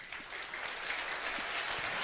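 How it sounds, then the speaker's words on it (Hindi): A crowd at a religious darbar gathering claps continuously, dense and fairly close, the applause holding steady throughout. "दरबार में आनंद आ रहा है तो ताली बजा दीजिए।"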